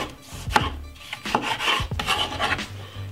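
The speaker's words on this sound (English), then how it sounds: "get one medium-sized tomato and simply cut it up very small" A knife chops a medium-sized tomato into very small pieces on a wooden board, making irregular close taps and rasping scrapes in uneven bursts, with no speech.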